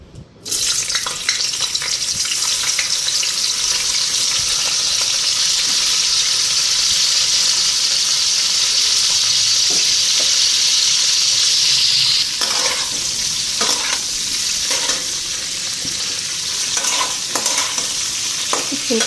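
Boiled cauliflower fries in hot oil in a wok, giving a loud, steady sizzle that runs the whole time, with stirring scrapes and clinks breaking through in the later part.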